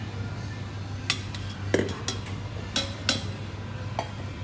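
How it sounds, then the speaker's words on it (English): Flour going into the metal bowl of a KitchenAid mixer while making taralli pugliesi, heard as scattered sharp clinks and taps of utensils against the bowl over a low steady hum, with a voice in the background. "we're using our KitchenAid. We're putting our flour inside."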